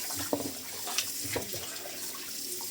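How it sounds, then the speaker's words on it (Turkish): Homemade butter is rinsed and squeezed by hand in cold water, with steady running water and a few soft sloshes and splashes close by. "Bu şekilde yıkayarak içindeki acı suyunu iyice temizliyoruz."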